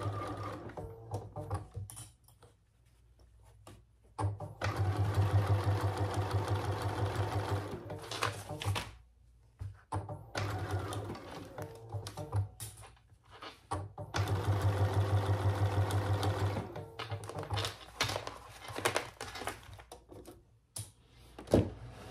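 A sewing machine stitches closed the bottom of a small fabric case for bag hardware or tags, running in several steady bursts of rapid mechanical whirring separated by short pauses and handling noises, close and moderately loud.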